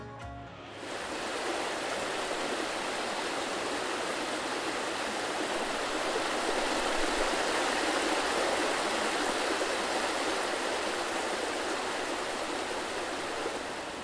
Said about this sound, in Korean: 골짜기를 가득 메우는 우레 같은 물소리